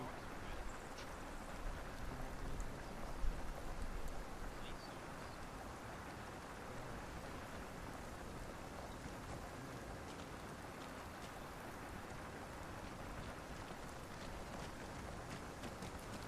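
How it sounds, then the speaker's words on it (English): Steady, even rain hiss in a video game fills the whole stretch, with a slightly louder swell early on and no clear voices. "It's raining."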